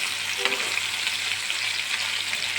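Stuffed white brinjals fry under a lid in a covered pan, giving a continuous close sizzle and crackle with a faint clink near the start and no talking.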